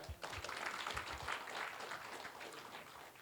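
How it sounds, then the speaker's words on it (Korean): Audience applause at a science and technology innovation forum in Gwangju–Jeonnam, a broad steady wash of clapping from a seated crowd lasting the whole stretch, moderately loud with no speech over it. "여러분 다시 한번 멋진 박수 부탁드리겠습니다"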